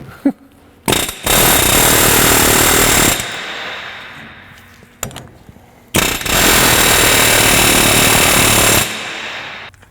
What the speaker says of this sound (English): I'm going to take this air hammer on the back side of the hub, try to get it moving in the direction I want it to go in